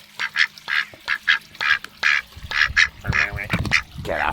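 A duck beside a koi pond quacks repeatedly in loud, close, rhythmic calls, the quacks coming faster and rougher toward the end with no talking.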